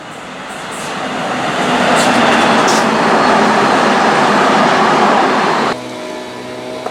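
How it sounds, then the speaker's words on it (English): A loud, broad roar of a freight train rushing past nearby on the rail line, swelling and holding steady before dropping off abruptly near the end. "there is another freight train that is running half an hour early"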